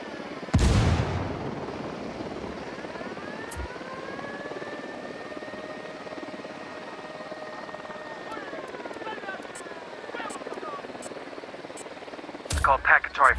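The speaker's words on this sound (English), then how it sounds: "Chopper inbound." An approaching helicopter in Ghost Recon Wildlands whirs steadily with a droning rotor and rising pitch, opening with a sharp blast and ending with a few gunfire-like bursts.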